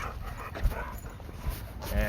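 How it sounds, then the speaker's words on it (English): A dog pants and whimpers close by amid a busy, noisy outdoor background, with soft intermittent whines and breathy huffs continuing throughout. "A dog getting too close to my dog."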